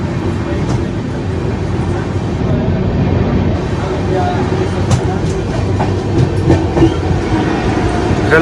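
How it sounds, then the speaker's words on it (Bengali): A local train rumbles and clatters along the rails into a station in Odisha, a deep continuous roll with rhythmic clacking, close and loud. "লোকাল ট্রেন ঢুকছে এখানকার"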